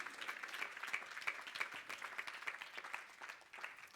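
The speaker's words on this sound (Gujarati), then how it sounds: "તાળીઓથી આ બાળકોને આપણે એકવાર વધાવી લઈએ" An audience at a Bhagavad Gita puja applauds to welcome children, a steady wash of many hands clapping at moderate distance, sustained evenly for several seconds without speech.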